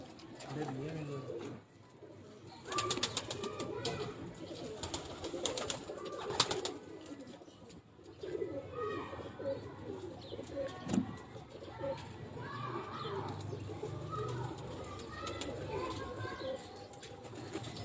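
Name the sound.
breeding pigeons cooing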